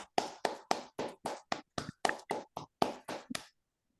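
About a dozen distinct hand claps in a steady, even rhythm, close and dry, from a small audience at the end of a lecture on the marsh deer. The clapping stops abruptly, leaving silence.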